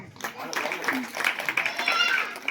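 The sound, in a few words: audience clapping at prize ceremony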